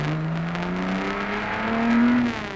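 A 1956 Le Mans race car accelerates hard on the circuit, heard from on board: a loud, steady engine drone that climbs in pitch as it revs, with no voices over it.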